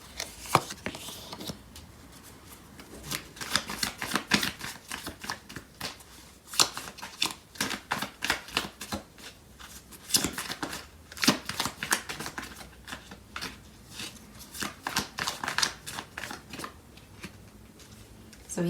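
Tarot cards are shuffled and handled near the microphone in a dense run of crisp riffling and slapping bursts that continue for the whole stretch.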